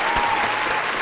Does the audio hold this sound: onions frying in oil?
no